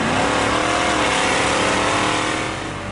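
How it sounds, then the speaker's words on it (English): Cars drag racing on a converted airfield landing strip at Gimli, a loud engine roar rising as a car accelerates hard, holding strong for a couple of seconds before easing slightly. "The Gimli landing strip has been converted"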